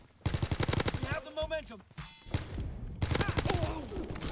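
Rapid SMG bursts from Call of Duty: WWII, loud close volleys of fast automatic fire broken by short pauses, with game sounds in between.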